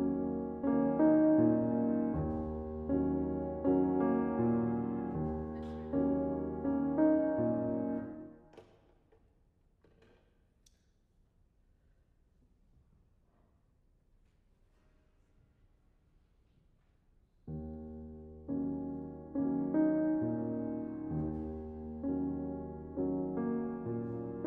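An ostinato passage from a Florence Price piano work repeats its steady, pulsing figure, falls to near silence for several seconds, then returns at the same moderate level.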